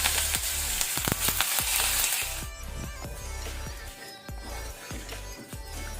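Curry leaves and dal sizzling in hot oil for a tempering, a loud crackling fry that drops to a softer steady sizzle halfway, with repeated stirring scrapes throughout.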